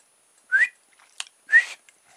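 A person tries to whistle, producing two short breathy, airy whistles a second apart with a faint click between them, close against near silence.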